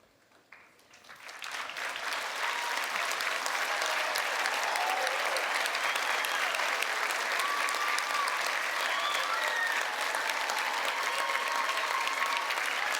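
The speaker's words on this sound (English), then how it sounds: "Just hold your applause for just a moment." A large crowd breaks into loud, sustained applause after a quiet moment, clapping steadily and evenly until the end.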